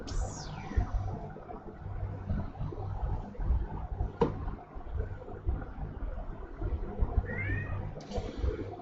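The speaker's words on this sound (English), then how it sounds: "It's almost as if you're meowing at me" A cat meows several times: a rising-falling cry at the start, then shorter mews later, over a steady low background hum.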